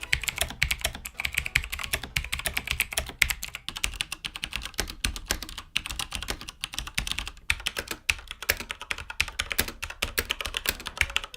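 Loud, fast mechanical keyboard typing, a dense stream of sharp clicky keystrokes continuing steadily throughout with no voices.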